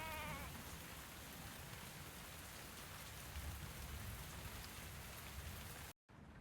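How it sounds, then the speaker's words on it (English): Steady rain falls throughout, a dense, even hiss of drops on a surface with no voices, until a brief dropout near the end. "Looks like it's raining today."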